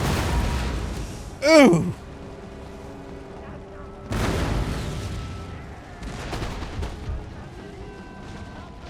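An artillery volley fires in Total War: Empire, a sharp loud boom followed by rolling, scattered cannon reports further off, with a voice exclaiming over the firing.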